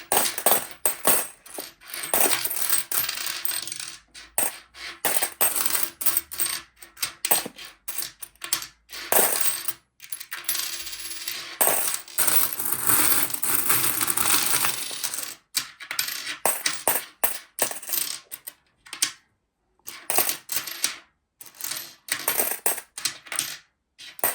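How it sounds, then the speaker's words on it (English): UK coins clank and jingle as they are sorted by hand, bursts of metallic chinking and rattling separated by brief pauses, close and clear with no talking. "let's give you 30 seconds of just coin clanking"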